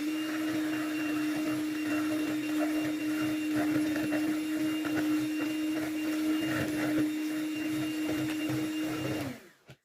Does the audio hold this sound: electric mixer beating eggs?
yes